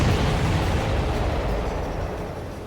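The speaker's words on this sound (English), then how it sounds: "That's a confirmed direct hit by the missile." A missile strikes a large target in the Ace Combat 7 video game, producing a loud, sustained, broadband explosion roar that slowly fades over a few seconds, with no speech.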